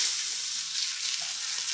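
Rib-eye steaks frying in a pan give off a dense, even sizzle, a bright steady crackle heard up close with no pauses and no voices.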